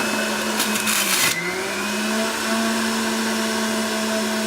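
A Breville juicer churns through kale and ginger with a steady, loud motor whine that runs throughout, and a burst of harsher grinding comes early as produce is pushed into the chute.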